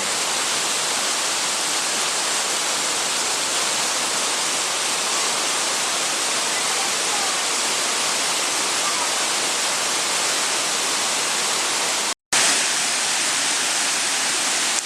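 Pha Taek waterfall in Khao Laem National Park, Kanchanaburi, Thailand, roars steadily and loudly, a dense broadband rush of falling water with a brief dropout near the end.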